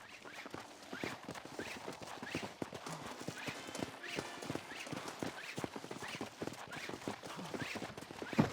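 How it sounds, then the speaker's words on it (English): In the Red Dead Redemption video game, a horse's hooves clip-clop steadily at a walking pace, close and continuous, with no speech. "What's up with that sick horse?"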